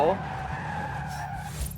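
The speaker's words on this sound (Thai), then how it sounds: "โอ้ยดูนี่ระยะเบรกเป็นไง" A Subaru BRAT pickup in Forza Horizon 5 brakes hard from high speed, its tires squealing in a steady, sustained skid under engine noise while someone talks over it.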